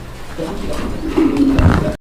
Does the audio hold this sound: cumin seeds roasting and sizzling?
no